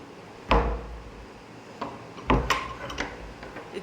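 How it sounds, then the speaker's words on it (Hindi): A room door pushed shut on a sunny morning, giving a sharp wooden thump followed by a second, louder bang and a few small knocks and rattles, close by with no talking. "बंद ही कर देती हूँ दरवाज़ा।"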